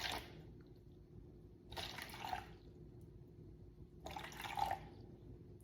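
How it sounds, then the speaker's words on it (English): Water poured into a container for a concrete candle-vessel mix, two short bursts of splashing pour a couple of seconds apart, quiet and close, over a faint steady hum. "And now I'm gonna measure, what did I say? 90 grams of water."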